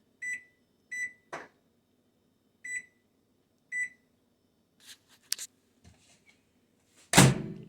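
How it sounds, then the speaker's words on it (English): A kitchen microwave oven beeps four times in short, evenly spaced tones, with a door thunk among them, then buttons are pressed and the oven's door closes with a firm slam near the end. "And back into the microwave it goes at"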